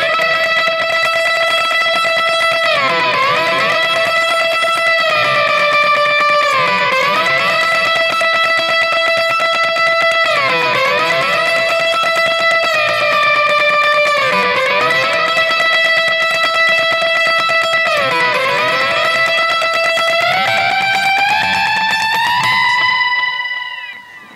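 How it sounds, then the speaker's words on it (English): Electric slide guitar riff played with a dotted-eighth delay and double picking, sliding pitches repeating in a looping pattern with echoing, distorted repeats, loud and continuous with no voices. "So I use this with a dotted 8th delay while double picking at the same time."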